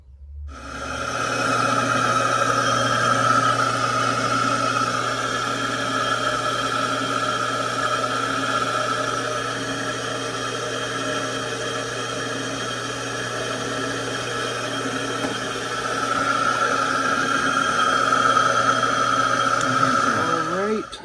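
An engine started and running in gear, a steady, loud droning hum with a constant tone that holds evenly for about twenty seconds before cutting off at the end.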